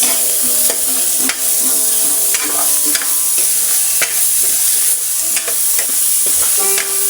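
Garlic and onion sauté in a pan, a steady, loud sizzle broken by repeated scraping strokes of a stirring utensil, with no talking.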